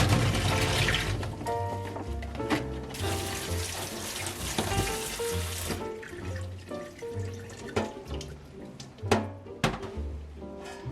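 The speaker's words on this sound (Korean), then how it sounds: "껍질 깐 메추리알을 가볍게 씻어서 냄비에 넣어주세요" Water runs steadily from a tap, splashing over peeled quail eggs being rinsed, with occasional knocks and clunks of items being handled in a sink.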